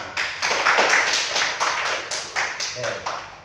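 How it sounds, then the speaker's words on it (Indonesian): Workshop audience clapping in a room, a few bursts of rhythmic group clapping in quick succession, fairly close and moderately loud with no talk over it. "Ya, oke. Tepuk tangan."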